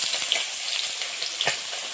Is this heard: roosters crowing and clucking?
no